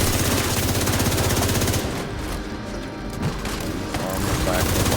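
Rapid automatic gunfire in The Division 2 during a raid, loud dense bursts that ease into scattered shots and booms while a player talks over the action.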